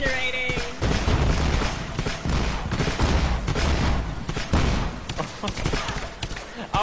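Rapid rocket-launcher and gunfire bursts from the Lara Croft and the Temple of Osiris video game, a loud dense barrage of booms and thuds with players talking over it.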